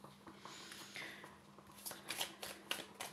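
A playing card is drawn and placed during a tarot-style reading, giving soft shuffling and sliding sounds with a few crisp little snaps near the end, close and quiet.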